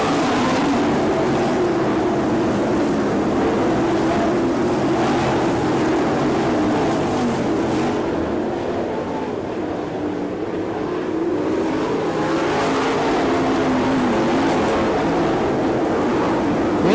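Race cars lap Lawrenceburg Speedway during an All Star Circuit of Champions sprint car event, a steady loud engine roar that swells and fades as the cars pass, continuous throughout with no talk.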